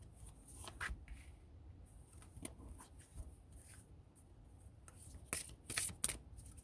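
Tarot cards are shuffled and drawn by hand in a quiet room: soft, scattered riffles and flicks with pauses between them, ending in a quick burst of card snaps.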